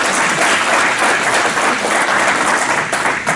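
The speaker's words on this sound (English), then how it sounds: "let's give him a round of applause" Audience applause, steady dense clapping from a room full of people, loud and close, lasting a few seconds without a break.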